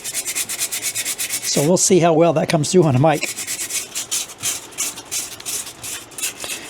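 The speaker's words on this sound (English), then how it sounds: "I'm going to hit it a little bit of 80 grit sandpaper just to rough it up" Steady scratchy 80-grit sandpaper rubbing on a boat's gel coat fills the clip, with a brief spoken phrase over it partway through.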